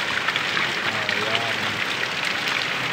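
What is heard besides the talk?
heavy rain during a typhoon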